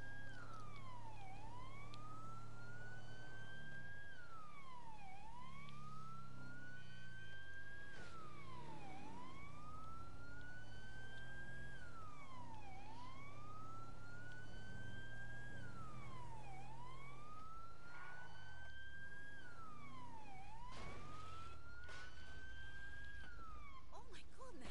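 A police SWAT vehicle siren in the video game GTA 5 wails in a steady rising-and-falling cycle roughly every four seconds, continuous and prominent throughout with engine-like rumble beneath.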